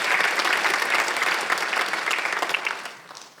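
Congregation applauding during a Sunday church service, dense lively clapping from a large group that is loud at first and then tapers off toward the end.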